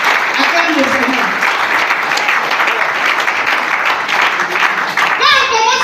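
A church congregation at a seminar applauds continuously and loudly for several seconds, a dense wash of clapping hands with voices calling out over it.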